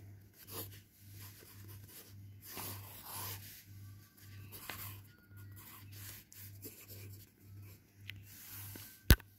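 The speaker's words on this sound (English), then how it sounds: "And I'll draw the slide" A pen or pencil drawing playground swings and a slide on paper, with soft scratchy strokes coming in short bursts over a steady low hum, close and quiet, with a sharp tap near the end.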